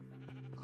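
A Minecraft sheep bleats once in a short, close, wavering call with a steady tonal pitch, heard alone without talk.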